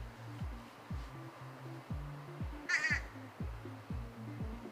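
A bird gives a run of loud, close crow-like caws in a steady repeating rhythm, heard alone without speech.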